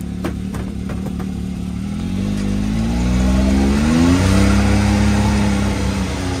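A 2022 Can-Am Maverick X3 XRS side-by-side drives on a first run, its engine loud and close, revving up through rising pitch and holding a steady drone, with light clatter over the top.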